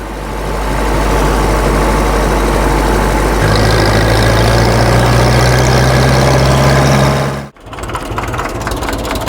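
A Grey Fergie tractor engine ticks over at a steady idle, a loud, close, low rumble with an even pulse that holds for several seconds before a brief dip, then continues.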